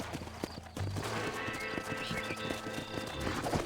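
Galloping horse hooves in the Red Dead Redemption video game, a rapid rhythmic clip-clop, fairly close, mixed with game ambience and brief vocal sounds.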